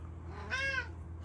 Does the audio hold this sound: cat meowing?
yes